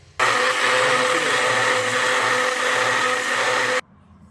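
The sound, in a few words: blender grinding mint chutney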